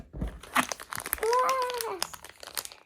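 A plastic packet crinkles and rustles up close in busy bursts, with a voice briefly rising over the crackling.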